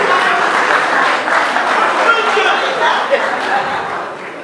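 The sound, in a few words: audience applause for a couple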